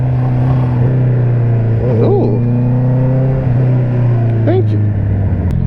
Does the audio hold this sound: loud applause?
no